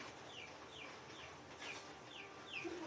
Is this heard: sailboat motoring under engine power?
no